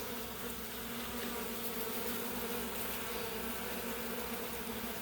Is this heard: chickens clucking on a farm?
no